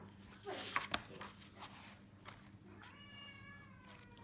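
A domestic cat meows a few times close by in a quiet indoor room, the cries short and faint with a voice and soft movement in the background.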